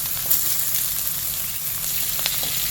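Dry red chillies frying in hot oil in a pan, with prawns about to be cooked: a steady, close sizzling hiss that continues without a break.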